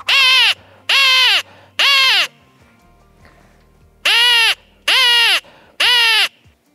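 A person imitates a crying magpie by voice, giving six loud, harsh descending caws in two groups of three, each call about half a second long, with a brief quiet pause between the groups.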